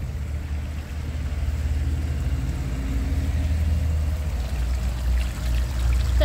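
Water gushes continuously from a garden pool being drained, a steady rushing and splashing flow with a heavy low rumble that holds throughout.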